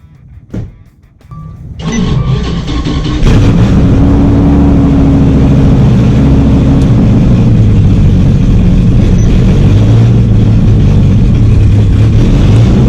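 A Dodge Viper's engine turns over, then settles into a loud, steady drone as the car pulls away, continuous cabin engine noise holding on as it accelerates.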